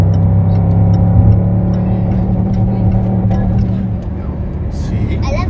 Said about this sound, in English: It basically seemed like it was bouncing off rev limiter.